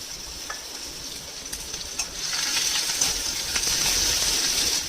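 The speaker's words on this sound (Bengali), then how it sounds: "একটা কড়াই বসিয়ে দিয়েছি একটা একদম কুচনো পেঁয়াজ দিয়ে দিলাম তেলটা কিন্তু খুব কম দিয়েছি" Finely chopped onion fries in a little oil in a wok, a steady close sizzle that grows louder halfway through, with occasional stirring clicks and scrapes.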